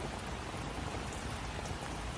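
Heavy cartoon rain pours down steadily and loudly, a dense unbroken hiss of drops beating on surfaces with no voices over it.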